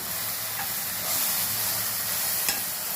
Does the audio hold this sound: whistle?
no